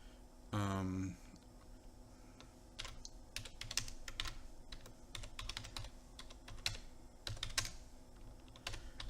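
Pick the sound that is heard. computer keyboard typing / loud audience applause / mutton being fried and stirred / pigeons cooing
computer keyboard typing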